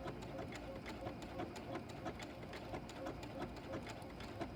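Sewing machine stitching fabric appliqué for ghost appliqué quilt blocks, running in a steady, fast rhythmic chatter of needle strokes throughout, fairly quiet and close.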